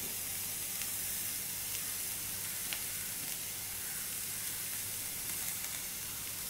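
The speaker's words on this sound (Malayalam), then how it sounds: "ഇതെല്ലാം കൂടെ നമുക്ക് വഴറ്റിയെടുക്കാം." Green chilies and tomatoes sauté in a pan, producing a soft, continuous sizzle and hiss at low level with faint stirring ticks and no voices.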